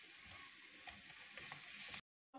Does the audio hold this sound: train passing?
no